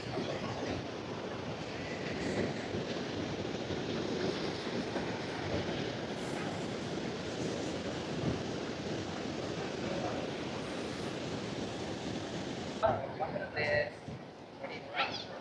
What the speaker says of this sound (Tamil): இந்த கிருஷ்ணகிரி டிஸ்ட்ரிக்டில் இவ்வளோ தண்ணி ஓடுறது எனக்கு ஆச்சரியமாக இருக்குது